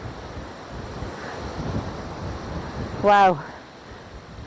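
Gusty outdoor wind roars steadily against the microphone in an old graveyard among moss-covered headstones, with a brief spoken exclamation over the rumble near the end.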